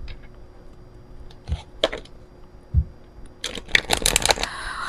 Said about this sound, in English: So, shuffle natin to mga kapixie para sa inyong spiritual messages.